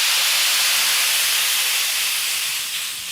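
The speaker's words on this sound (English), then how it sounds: "I'm going to take the pan off the heat and add the wine to it." Dry white wine poured into a hot pan taken off the heat, giving a loud, steady hiss of steam and sizzle that holds for about three seconds and eases slightly at the end.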